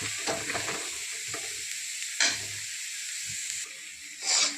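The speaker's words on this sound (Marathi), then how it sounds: "आता ह्याला फ्राय करून घेणार आहोत अगोदर दोन कांदे एक टमाटा" Two onions and a tomato frying in a pan, a steady hissing sizzle punctuated by a few bursts of louder spitting and short stirring sounds, heard alone without speech.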